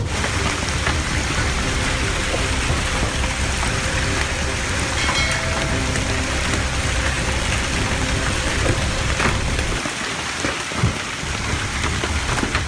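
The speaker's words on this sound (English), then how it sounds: "hail hammered down with deafening force, pelting rooftops, sidewalks, and vehicles alike" Dense, steady hail pelting roars without pause, drumming on rooftops, sidewalks and cars during a giant hailstorm in France, loud and continuous throughout.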